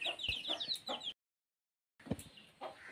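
Kadaknath chickens, a pair of roosters and two hens, cluck close by in short bursts, with a brief silent gap splitting the sound before the clucking resumes.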